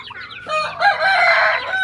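A rooster crows loudly and close by, its call stretching over the clucking of several chickens, with no talk, at a Thai farm breeding sport chickens.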